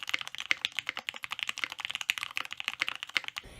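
Fast, steady typing on a custom mechanical keyboard, crisp close clacky keystrokes in a dense even rhythm, heard alone without voices.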